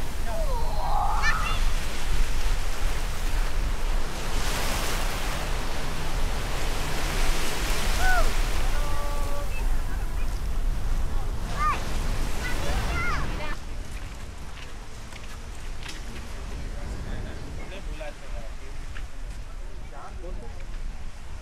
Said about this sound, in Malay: Ombak datang.